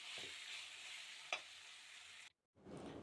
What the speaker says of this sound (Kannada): ಕ್ಯಾಪ್ಸಿಕಮ್ ಇವಾಗ ಚೆನ್ನಾಗಿ ಫ್ರೈ ಆಗ್ತಿದೆ.